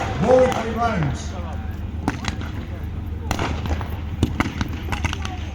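Scattered gunfire pops and cracks at a WWII reenactment battle at Bovington's Tiger Day, sharp shots spaced irregularly over distant ambient noise with a voice near the start.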